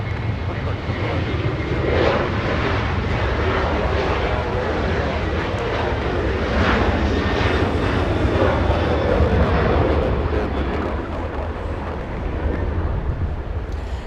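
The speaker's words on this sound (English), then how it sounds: "We go for the departure. Southwest Airlines getting a move on, flying to Baltimore," Southwest Airlines jet departing Los Angeles International for Baltimore, a continuous heavy engine roar holding loud and steady throughout, with faint talk now and then beneath it.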